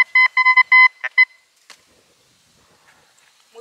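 Metal detector on a lakeside beach giving a run of sharp electronic beeps, about six rapid tones in the first second and a half, followed by near silence with faint rustling.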